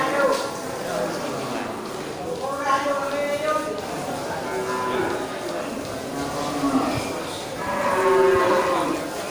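Several low, drawn-out moos from water buffalo repeat close by over a noisy outdoor background at a livestock market, with no clear talk.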